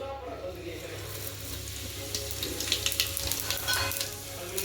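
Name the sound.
cumin seeds sizzling in ghee and oil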